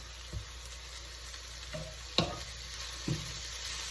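Stuffing ingredients for Sicilian stuffed eggplant fry in olive oil with a steady, close sizzle. A few sharp clacks of stirring break in, and no one speaks.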